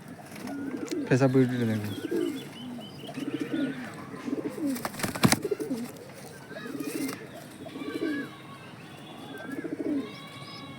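Lop pigeons, including a golden hen, coo in soft repeated rolls at a steady pace, fairly close, while someone talks between and over the calls.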